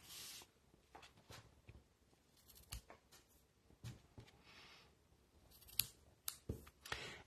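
Scissors snip loose thread tails after a knot is tied at the bottom of a quilting piece, giving a series of close, crisp cutting clicks spread across the moment, several bunched together near the end, with no talk.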